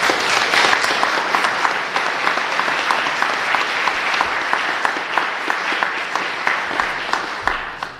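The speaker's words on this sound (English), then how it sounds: "let's give all of our panelists a round of applause" Sustained audience applause for panelists at an immigration forum, dense and even clapping from a crowd lasting the whole stretch without pause, fairly close and loud.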